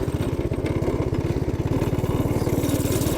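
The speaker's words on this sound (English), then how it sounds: "Nothing like a Briggs 5-horse flathead. This is the best engine." A Briggs 5-horse flathead engine on a go-kart runs loudly and close by, with a fast, even chugging beat throughout.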